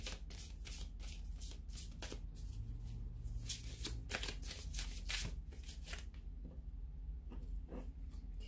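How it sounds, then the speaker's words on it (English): A deck of tarot cards is shuffled, a run of quick riffling, flapping bursts in an irregular rhythm, close and clear, with no talking. "I'm going to give the Angel Answers card a shuffle here"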